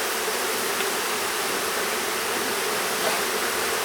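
Honey bees swarm around an open hive in a beekeeper's single brood box, a dense, unbroken buzzing hum that fills the space evenly, steady and close with no voices.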